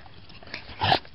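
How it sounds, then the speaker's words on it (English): A dog lets out a brief sniffing, snorting huff close to the microphone, ending in one short, louder burst. "Hunter, you crazy dog."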